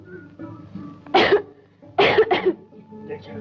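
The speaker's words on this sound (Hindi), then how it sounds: "आज बहुत खांसी आई थी।" A person coughs harshly in two bursts, the second a quick double cough, close up, with quiet breathing around them.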